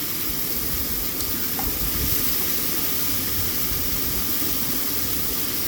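Chopped greens hit hot oil with fried shrimp, giving a steady, loud, continuous sizzle that stays even throughout with no talking.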